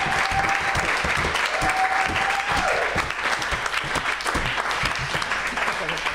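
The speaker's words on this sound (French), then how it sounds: "Donc, je voudrais que pour Austin Peace, il y ait quand même plus ou moins une tonne d'applaudissements." An audience claps at a stage show at Apple Expo 2006, dense, continuous applause from a crowd, close and sustained, with a faint whistle or voice briefly rising early on.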